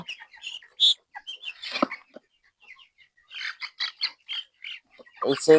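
Chickens cluck close by in short, scattered bursts with brief quiet gaps between them, some calls sharp and squawky.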